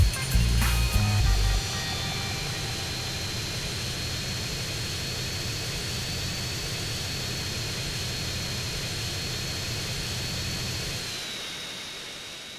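A jet airliner's engines roar steadily on final approach to land in Grand Theft Auto: San Andreas, a loud sustained whine over a rumbling low drone that fades slightly at the end, with brief clatter at the start.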